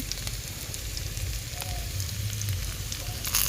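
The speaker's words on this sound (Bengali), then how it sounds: "পেঁয়াজ কুচি মরিচগুলো দিয়ে দেব এখন এখন একটু নাড়িয়ে নিচ্ছি পেঁয়াজ কুচিগুলো" Chopped onions and chillies sizzle steadily in a pan for a hotel-style Bangladeshi chana dal bhuna, with soft scraping stirs running through the continuous frying hiss and no talking.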